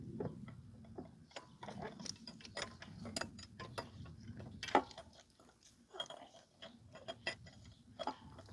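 A wrench clicks and ratchets faintly while tightening the intake tube on a 1996 Ford F250 7.3 Powerstroke engine, giving irregular metallic ticks under the hood.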